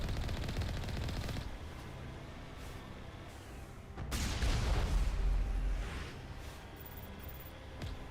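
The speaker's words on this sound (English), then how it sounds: "they shot me and interrupted the conversation" Rapid automatic gunfire from the Mass Effect video game rattles continuously, with a louder burst of shots and impacts midway before settling back into steady firing; no one speaks.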